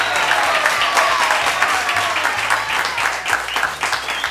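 Sustained applause from an audience, dense and even clapping throughout, with some voices mixed in.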